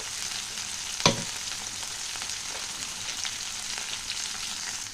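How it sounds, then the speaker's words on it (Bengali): Vegetables, including bitter gourd, fry with panch phoron spices for a Bengali shukto, a constant hissing sizzle with a sharp clack near the start and occasional soft stirring scrapes. "পাঁচফোড়ন এর মধ্যেই দিয়ে দেবো তো ভাজাটা হয়ে যাবে একসাথে"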